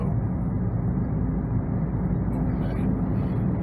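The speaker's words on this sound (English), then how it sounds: "and you can hear the traffic noise though" Traffic on the I-5 freeway running alongside the small town of Canyonville, Oregon: a constant loud low rumble and roar with no breaks, heavy and close throughout.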